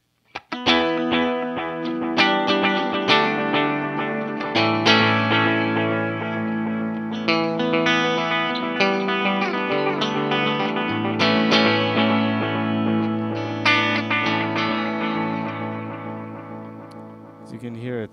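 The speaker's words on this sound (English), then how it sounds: "Let's go to the Memory Man." Stratocaster electric guitar played through a Vox AC30 amp with a Deluxe Memory Man analog delay pedal, sustained chords and notes trailing into bright repeating echoes, steady and full throughout.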